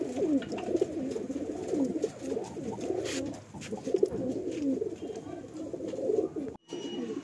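Fulsira pigeons coo in repeated soft, low, rolling calls that overlap at close range, with no voices.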